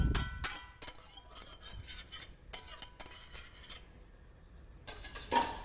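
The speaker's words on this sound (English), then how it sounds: "we're just going to whisk this together" A whisk clinks steadily against a bowl as six egg yolks are beaten for hollandaise sauce, a quick, fairly faint metallic rhythm with brief pauses and no talking.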